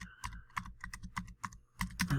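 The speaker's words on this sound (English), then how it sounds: "I'm hitting the left arrow key" Rapid tapping on a computer keyboard, close and crisp, with irregular clusters of keystrokes and a few heavier presses near the end.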